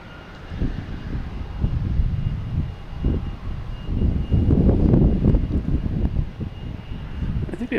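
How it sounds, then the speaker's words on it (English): An Emirates airliner comes in to land at Boston Logan, a broad low roar of jet engines that swells toward the middle and stays loud, with some wind rumble on the microphone. "let me get Emirates coming in now"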